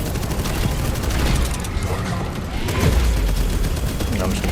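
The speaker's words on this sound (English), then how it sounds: "I'm just gonna spam primary fire onto the weak spot of this guy." Rapid, continuous video-game gunfire from a primary weapon fills the scene with dense repeated bursts and booms at steady loudness, with some talk mixed underneath.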